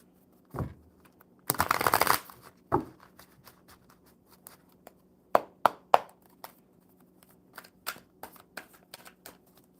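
A deck of playing cards being riffled and shuffled up close, a dense burst of rapid flicking followed by scattered crisp snaps and taps as cards are squared and set down, fairly quiet with no talking.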